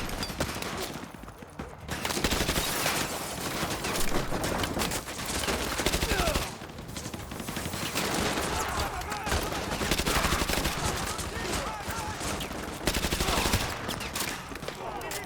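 Rapid automatic gunfire in the video game Modern Warfare 2 Remastered, long loud bursts of shots running almost continuously, broken by a few short pauses, with faint talk underneath.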